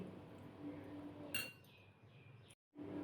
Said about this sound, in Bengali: তাই আমি চামচটা দিয়ে মিশিয়ে নিচ্ছি